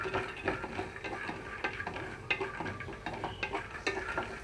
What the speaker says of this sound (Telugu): ఇక్కడ నేను పల్లీలు ఇక్కడ లో ఫ్లేమ్లోనే ఉంచి కొంచెం బాగా వేయించుకోవాలండి.